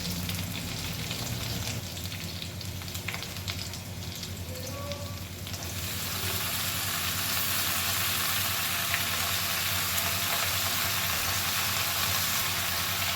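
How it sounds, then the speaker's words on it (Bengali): Malabar spinach and prawns tossed together in a pan over a medium flame, giving a dense, even frying hiss that swells louder partway through, with faint stirring underneath and no voices. "ভালো করে একটু নাড়াচাড়া করে সব একসাথে মিশিয়ে নিল"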